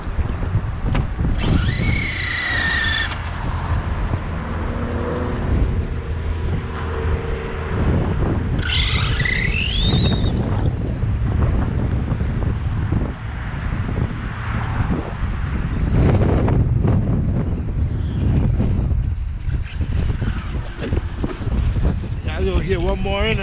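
A Traxxas Slash Street Eliminator RC truck launches and drives outdoors, its motor whining and rising in pitch in bursts over steady wind buffeting the microphone, with a voice speaking at moments.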